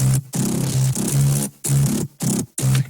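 A Corona bass synthesizer preset plays a few loud, gritty sustained notes in short bursts separated by brief gaps, buzzy and distorted with a dense noisy upper edge.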